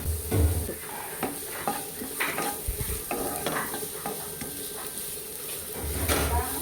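Sliced onions and mango sizzle in a pan while a spoon stirs and scrapes them, giving soft continuous frying with intermittent close scraping and clinks.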